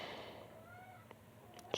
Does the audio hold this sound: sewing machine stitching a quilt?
no